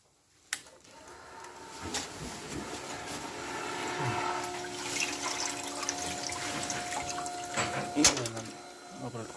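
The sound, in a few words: water flowing out of a car heater core return hose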